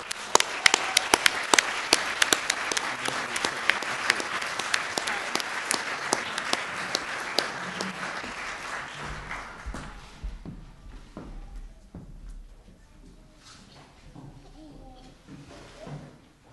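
Audience applause welcoming a 2012 valedictorian at a St. Therese graduation ceremony, a dense wash of clapping for about ten seconds that thins out into a few scattered claps and quiet room noise.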